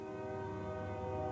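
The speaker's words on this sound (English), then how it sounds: "1 and even 2 trains sounding their presence through the city." A train horn blows in downtown Fargo, a sustained steady tonal blast held at moderate distance through the whole short stretch, with no talk.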